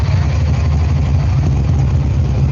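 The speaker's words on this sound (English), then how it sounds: "Oh, that Chevelle sounds great." A Chevrolet Chevelle at an outdoor car show rumbles with a deep, steady idle, loud and close, the low engine drone continuous with no pauses.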